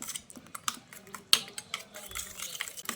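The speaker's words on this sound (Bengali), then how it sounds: "এবার একটা হুইস্কের সাহায্যে ডিম, কাঁচা লঙ্কা, পেঁয়াজ আর নুনটা একসঙ্গে ভালো করে মিশিয়ে নিচ্ছি" Eggs, green chili, onion and salt being whisked in a bowl, heard as quiet, quick, irregular clicking taps of the whisk against the bowl, with a few sharper clinks.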